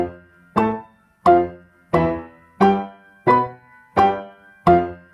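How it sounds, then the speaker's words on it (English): Seven sharp staccato piano octaves in C, struck at a steady, even pace in a quiet room, each attack ringing briefly before the next. "We're going to start with staccato octaves"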